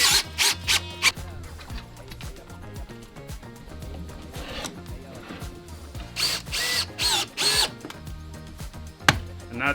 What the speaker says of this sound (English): and then I can screw from the bottom into the deck board